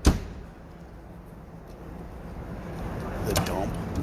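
An ambulance's air suspension dumps with a sharp pneumatic burst at the start, followed by a low hiss and hum of the vehicle, with a faint knock near the end; the ambulance sits at a fire-rescue trade show.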